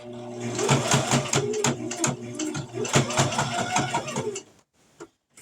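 A sewing machine stitching a fabric coffee cup cozy, a steady close mechanical whirring and needle rattle with brief pauses, stopping near the end, with a voice talking over it.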